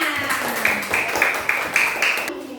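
A classroom of primary school children claps in a steady rhythmic pattern, roughly a dozen sharp group claps in even succession, close and fairly loud, with faint voices underneath.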